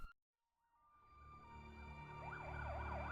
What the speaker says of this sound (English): The ambulance siren wailed